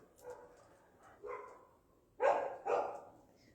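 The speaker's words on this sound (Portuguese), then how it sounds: "Perdão, os cachorros." A dog barks a few times, with two louder, closer barks near the end and softer ones earlier.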